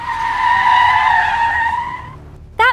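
A car's tires skid loudly as it pulls out of a lot in a comic-style sound effect, one long sustained screech that fades out, followed by a brief sharp squeal at the end.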